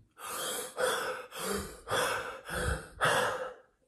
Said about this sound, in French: Donc concrètement, tu respires comme ça pendant 30 minutes.